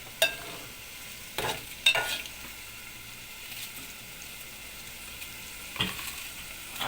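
Spoon scraping and stirring through frying spring onions with turmeric, a steady low sizzle under a few sharp scrapes of utensil against the pan, close and moderately loud.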